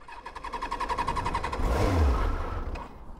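A 1998 Yamaha R1 motorcycle, run on choke on a hot day, is cranked with a steady rapid whirring, then catches near the middle and fires into a loud, close, rumbling idle that holds to the end.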